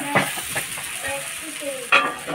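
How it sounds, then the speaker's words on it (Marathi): Ghavane rice crepes sizzle on an old iron griddle, a close, steady frying hiss with small crackles and a louder burst near the end, a voice speaking briefly over it. "आम्ही भिड्यावरच करतो घावणे"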